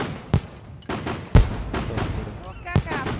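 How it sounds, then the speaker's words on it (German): Fireworks bursting in the survival game SCUM: a few sharp, loud cracks spaced irregularly across a few seconds, each with a booming low thump, over faint background game noise and some voice activity. "Feuerwerk!"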